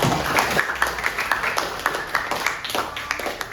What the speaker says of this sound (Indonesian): untuk tepuk tangan buat Ais.